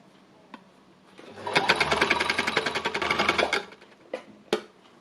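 A needle punching machine, similar to a sewing machine, runs through fabric in a steady rapid burst for about two seconds, with a few soft clicks and knocks before and after.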